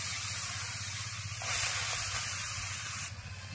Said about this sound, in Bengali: কড়ার মধ্যে তালের মাড় দিয়ে দেব।